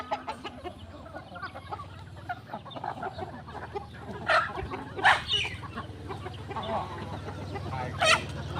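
Wild jungle fowl in grassy scrub, with several loud clucks and crowing-like calls around the middle and end over a constant low rumble and busy background.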